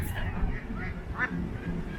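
Several duck quacks sound close by in short calls at a caravan campsite, mixed with a soft voice and outdoor background noise.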